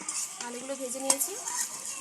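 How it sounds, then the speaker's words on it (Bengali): Potatoes frying in hot oil for an egg biryani, a soft steady sizzle under light stirring, with a brief utensil clink partway through, close and fairly quiet. "ওই একই তেলে আলুগুলো ভেজে নিয়েছি।"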